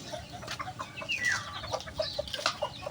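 Fighting roosters cluck softly while being fed, several short scattered calls and chirps at close range, with a faint rustle in the background and no talking.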